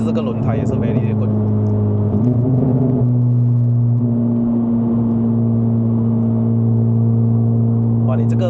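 Stage 2 tuned Honda Civic Type R FL5 on the move in Malaysia, its engine a steady loud droning hum with a gear-change shift in pitch midway, talk over the top throughout.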